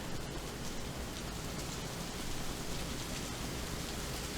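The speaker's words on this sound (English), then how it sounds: "Ooh, it's raining." Steady, dense rain pours down, a constant hissing patter on surfaces with no pauses.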